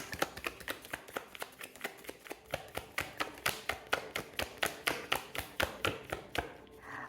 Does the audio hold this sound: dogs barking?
no